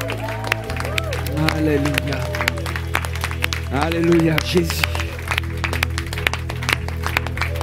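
A church congregation claps during an evening worship service, steady applause running under a voice calling out praise over sustained organ or keyboard tones.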